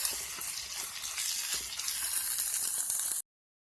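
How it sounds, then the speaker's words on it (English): Onions sizzling over medium heat in a pan on the stove for a quiche, a steady bright hiss with small crackles, close and continuous, stopping abruptly before the end. "See those onions getting nice and cooked."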